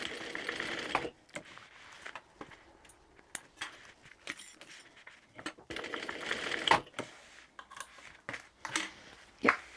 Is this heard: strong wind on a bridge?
no